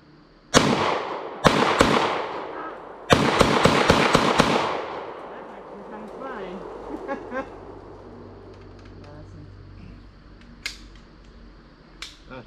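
A B&T APC9K Pro submachine gun test-fired outdoors in a handful of sharp, loud reports, a few single shots and then a quick short string, followed by fading echo and quiet ambience.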